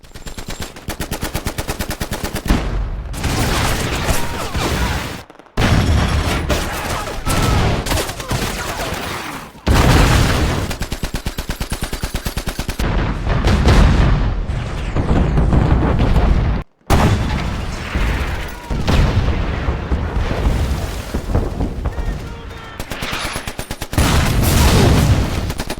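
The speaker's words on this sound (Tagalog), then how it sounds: "binaril sila ng mga Hapones at nagsimula na ang matinding labanan" Intense battlefield combat from the Battle of Iwo Jima: continuous loud machine-gun bursts and rifle fire with heavy booming explosions, broken by a few brief pauses.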